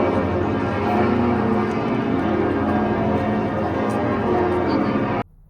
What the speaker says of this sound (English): I really do live for cathedral bells